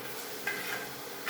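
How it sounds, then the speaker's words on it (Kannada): Tomato goes into a pan of sizzling oil with ginger-garlic paste for oats upma and is stirred; a steady close sizzle runs throughout, with two brief scraping stirs and no talk. "ಇವಾಗ ಟೊಮೊಟೊ ಹಾಕ್ತೀನಿ ನೋಡಿ."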